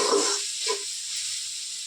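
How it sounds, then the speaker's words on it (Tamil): Onions sauté in a pan as a steady, faint sizzle that hisses on continuously and is heard alone, with a couple of soft low bumps near the start. "நல்லா சுருள பொன்னிறமாக வதங்கணும்."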